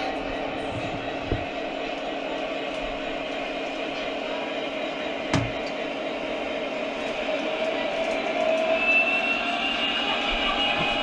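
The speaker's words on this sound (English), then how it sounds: "when you start rolling forward, the supercharger actually starts winding up" A Lionel model locomotive's supercharger winds up as the train starts rolling forward, a steady whirring drone that gradually rises in pitch over the clip, with a couple of faint clicks.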